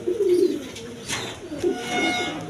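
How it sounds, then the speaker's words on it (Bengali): A pair of Andalusian-colour Danish pigeons, one hen and one cock, coo in low throaty bursts at the start and again midway, with faint background rustling between calls. "এখানে এক পেয়ার কবুতর আছে দেখেন অ্যান্ডোলেশিয়ান কালার ডেনিস কবুতর"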